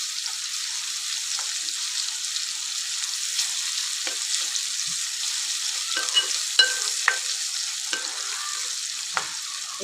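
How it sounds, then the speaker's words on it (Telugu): Ginger paste and turmeric sizzle steadily in hot oil for a homemade cauliflower masala curry, a continuous close frying hiss broken by a few soft stirring clicks, with no talking. "1 స్పూన్ పసుపు, 1 స్పూన్ అల్లం, ఈ రెండు అనేది మంచిగా మనం ఆయిల్లో ఫ్రై చేసుకోవాలి"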